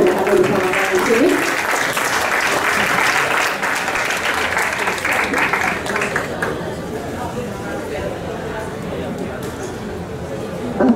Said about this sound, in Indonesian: Boleh tepuk tangan yang meriah untuk adik dari Bapak Basuki Cahayapurnama